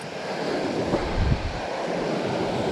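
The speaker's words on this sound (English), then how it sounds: "I hit this rapids." Rushing river rapids on a North Georgia trout stream, a loud, steady broadband roar of churning water close to the microphone, continuous throughout with slight surges and no voices.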